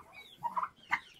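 Young turkey poults calling in short, soft chirping bursts, two or three close together, near and alone without talk.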